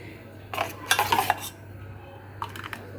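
A blended onion and cumin mixture is scraped from a mixer jar into a cooking pot, giving bursts of metallic clinks and scraping clatter, then a shorter clatter a moment later. No one talks.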